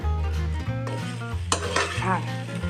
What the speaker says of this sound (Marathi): सगळा भात मिक्स करून घेऊन परत परतून घेतो